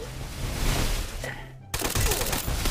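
Rapid bursts of gunfire from the mobile shooter Free Fire ring out loud and dense, cut by a brief silent gap before the shooting resumes.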